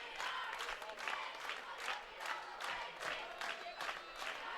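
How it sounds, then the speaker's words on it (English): After a high school sub-state championship basketball game, both crowds in the gym stand and applaud, a steady wash of clapping with pulsing swells and scattered cheers, fairly distant. "As both crowds stand and applaud this one all the way across"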